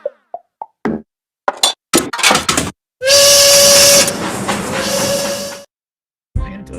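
Toy train in a Toca Boca Toca Train game: a loud sustained whistle from about three to five and a half seconds, preceded by short plops, taps and chimes, with a brief thump at the end.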